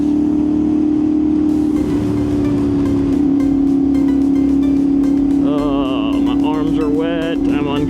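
A CFMOTO 450SS motorcycle is ridden in the rain, its engine a loud, steady drone with a strong hum under rushing wind and road noise. Revs shift slightly as it goes, and a voice speaks briefly near the end.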